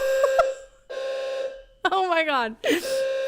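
A building fire alarm sounds in steady tonal blasts with short gaps between them, partly under a person's startled exclamation and other speech.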